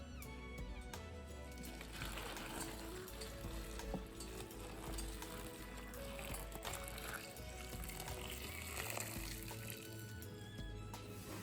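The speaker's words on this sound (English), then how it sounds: "I'm gonna pour the water in." Boiling water poured from a freshly boiled pot over a large batch of noodles, a steady, fairly quiet splashing rush lasting throughout with no talking.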